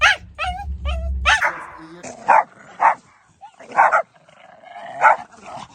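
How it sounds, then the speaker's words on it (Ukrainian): A dog during obedience training gives a run of short high whimpers and yips, then several louder howling cries spaced a second or so apart, close and without talk. "Починається оце виття."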